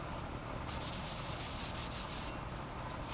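Sandpaper rubs back and forth along a handmade wooden axe handle, making a steady, close, raspy scraping that keeps going without pause and has slight rhythmic surges, with no voices.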